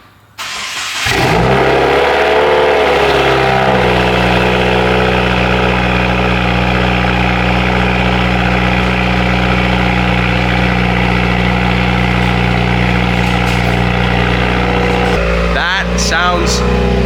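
A Subaru WRX fitted with a Grimmspeed V2 J-pipe cranks and fires up, then settles into a loud, steady, deep idle drone that holds for many seconds, with people talking over it near the end.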